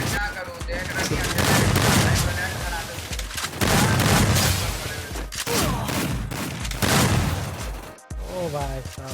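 Gunfire bursts loudly in the mobile battle game Garena Free Fire, with repeated volleys and booming shots in clusters, a short gap near the end, while a player talks over the action.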